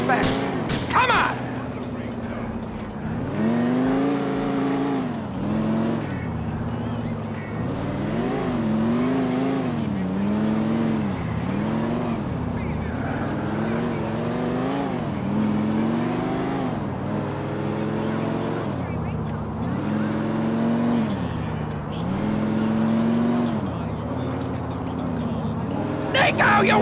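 A car in a chase in the video game GTA IV. The engine revs and shifts in repeated rising surges, with tire noise, under excited in-game voices shouting throughout.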